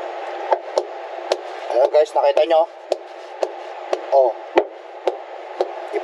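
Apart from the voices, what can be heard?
knocking on a truck tire to check its firmness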